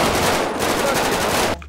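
Rapid automatic gunfire from the video game GTA 5 rattles loud and continuous for about a second and a half, then cuts off abruptly into a quiet tail.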